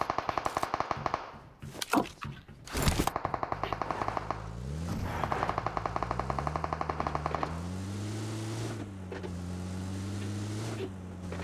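Rapid automatic gunfire bursts rattle through a battle royale game match, mixed with a droning vehicle engine that rises and falls in pitch, all close and loud with no talk.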